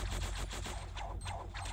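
Rapid gunfire in the mobile shooter Heroes of Warfare, a fast, even series of close, loud shots in a continuous automatic burst.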